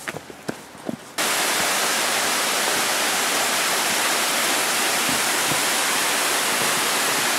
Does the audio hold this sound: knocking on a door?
no